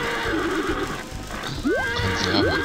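A horse in the video game Harvest Moon Magical Melody whinnies twice in falling, drawn-out calls over a busy bed of clip-clopping hooves and game sounds, close and fairly loud.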